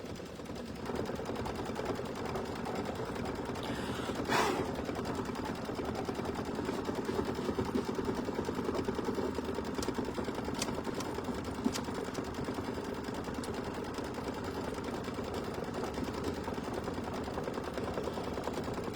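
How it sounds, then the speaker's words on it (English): A sewing machine stitching a decorative stitch around a fabric flower on a quilt block in purple thread. The rapid mechanical rattle runs steadily and fairly faint throughout, with one brief sharper sound near the start. "So now it's going to do our decorative stitch around the flower."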